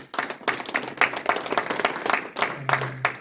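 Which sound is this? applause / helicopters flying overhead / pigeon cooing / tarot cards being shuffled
applause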